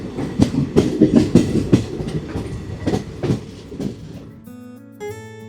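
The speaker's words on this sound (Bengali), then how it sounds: "সেই অন্ধকার ভেদ করেই আমাদের ট্রেন রওনা দিল বারহাওয়া জংশনের উদ্দেশ্যে।" A passenger train running on rails before dawn, rhythmic clickety-clack of wheels over rail joints, loud and close, before the clatter gives way to a quieter tonal hum near the end.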